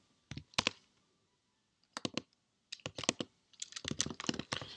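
Bursts of typing on a computer keyboard while entering Django migration commands, with quick clusters of key clicks separated by short pauses, close and clear with no voices.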